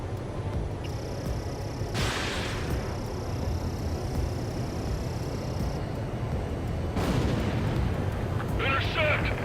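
Anti-aircraft fire in the video game Ace Combat 7, heavy booming bursts and crackling blasts over a constant roaring rumble, with two big hits standing out and radio voices talking throughout.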